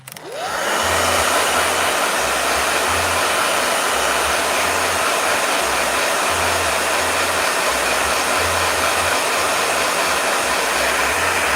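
A blow dryer starts up and runs steadily with a loud, constant whooshing roar and a low rhythmic pulsing underneath.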